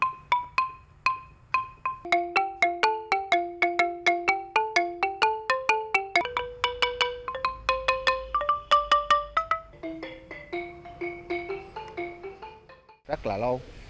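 A Khmer boat-shaped string instrument plays a clear melody of plucked notes in a steady, lively rhythm, each sharply attacked and decaying, loud and near, ending with a brief sliding flourish.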